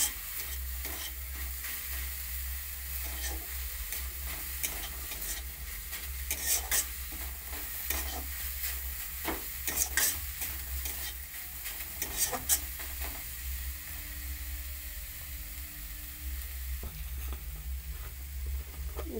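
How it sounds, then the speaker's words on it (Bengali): Grated carrots fry in a pan for a carrot sweet, giving a continuous close sizzle broken by repeated scraping and stirring clicks, with a low steady hum beneath and no talking. "গাজরটা আমার ভাজা হয়ে গেছে।"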